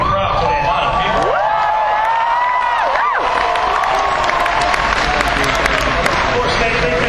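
A large convention panel audience cheers and applauds, a dense, continuous roar of clapping with scattered whoops and shouts rising over it, loud and sustained from start to finish.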